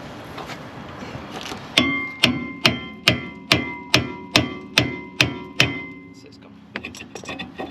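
A hammer striking a rear suspension part on a Mk6 Ford Fiesta ST150, ten loud ringing metallic blows in an even rhythm, close by, with softer knocks and workshop noise before and after.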